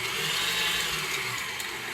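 An electric hand mixer whirs steadily through lime no-bake cheesecake mix, a close, continuous motor drone with no pauses.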